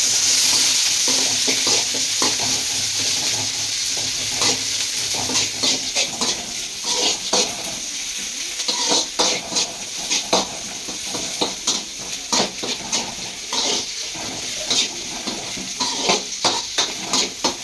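Onions with green chilies and curry leaves sizzle steadily in a hot pan while a utensil repeatedly stirs and scrapes against the metal in uneven, close-up strokes.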